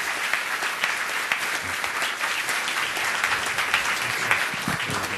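A seated audience applauds a panel at the end of a policy session on Afghanistan, a steady, moderately loud round of many hands clapping together with no voices over it.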